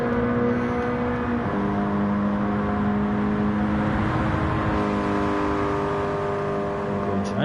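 A Subaru BRZ race car engine in a racing video game, droning steadily at high revs as the car runs down a straight at Trial Mountain Circuit, with a pitch shift partway through and a faint voice underneath.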